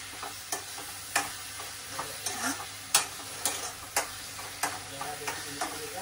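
Prawn masala cooks in a pan with a steady, soft sizzle, while sharp stirring clicks and taps of a utensil against the pan sound at irregular intervals, close and moderately quiet.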